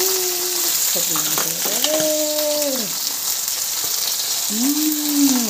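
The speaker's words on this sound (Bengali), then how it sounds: "এখন দিয়ে দিব গাজর, একটু ফ্রাই করে নিই" Carrots frying in a pan with nutmeg already added while fried rice is made: a steady, close sizzle runs throughout, with a few higher tonal sounds rising over it.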